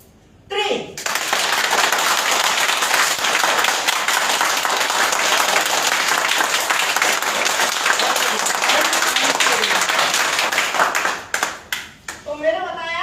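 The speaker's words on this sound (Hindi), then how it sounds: "मैंने बताया ताली बजाना है" Group at a team leaders' meeting clapping hands together on a count of three, a sudden loud burst of dense applause that holds steady for about ten seconds then fades, with someone speaking briefly before and after.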